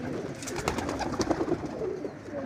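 Pigeons coo in soft, repeated throaty bursts mid-clip, mixed with wing flutters and rustling close by.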